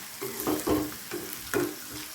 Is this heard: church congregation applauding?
no